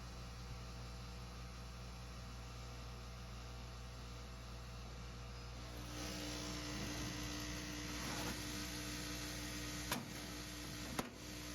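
A laser cutter running its first cut with a new laser tube, a faint steady electrical hum and whir that picks up midway, with a couple of small clicks near the end.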